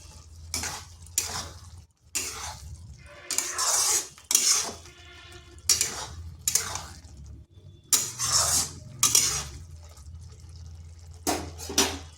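Half-boiled potatoes tipped into a pan of cooking ridge gourd, giving a series of sharp clattering knocks and scrapes of utensils against the pan, separated by quiet gaps.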